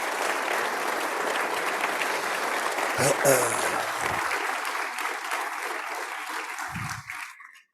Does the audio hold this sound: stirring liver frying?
no